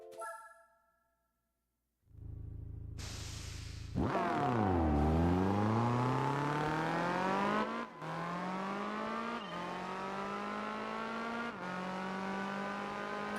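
A car engine in Gran Turismo 4 revs up hard and climbs through the gears, each shift dropping the pitch before it rises again, loud and close with no talk. The opening seconds carry brief tones and silence.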